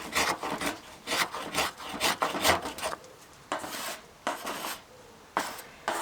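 A knife scrapes homemade waxwood into shavings in a series of close, rough rasping strokes, bursts at first, then spaced single pulls with short pauses between.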